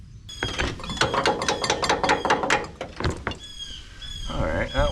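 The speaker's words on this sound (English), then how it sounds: "now we gotta get these bolts out." A ratchet wrench clicks rapidly and rhythmically while loosening upper control arm bolts on a 1999-2007 Chevrolet Silverado 2500HD truck, close up, followed by a short metallic squeal and faint movement.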